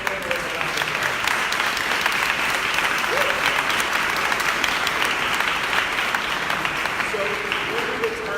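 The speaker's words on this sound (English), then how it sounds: "Can we give all of our panelists a round of applause?" Sustained applause from a live audience for a panel of speakers at a Black millennials faith conversation event in Los Angeles, steady and full throughout with faint voices mixed in.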